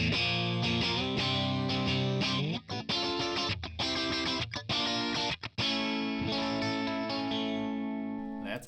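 Electric guitar played through a Tonex One boutique amp model on a balanced crunch setting, with a noise gate, rings out in sustained chords and riffs with brief choppy stops, loud and alone.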